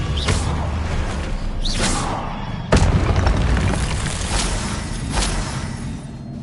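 Confringo spell blasts in Hogwarts Legacy land as loud, booming explosions with rushing whooshes, one heavy burst hitting hard midway and others rolling on over a constant rumble of game effects, with no speech.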